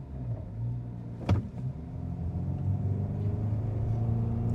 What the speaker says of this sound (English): we'll go ahead and we'll floor it